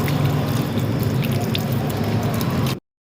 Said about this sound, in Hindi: अब मैं इसकी वाटरिंग कर दूँगी साथ